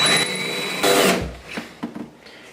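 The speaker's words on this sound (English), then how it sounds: "We're supposed to drill 1/4-inch pilot holes." A power drill bores a quarter-inch pilot hole through shower wall tile into a wooden stud, heard as a few close, loud grinding bursts over about two and a half seconds.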